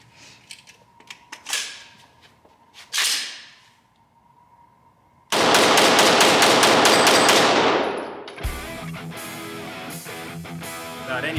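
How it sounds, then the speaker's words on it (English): Rapid fire from a Valentine Arms Glock 17 Gen 5 pistol with a 10-round magazine: a few scattered sounds first, then a dense burst of quick loud shots for several seconds, trailing into further clattering noise. "we have 10 rounds in this magazine. Let's do a rapid fire test."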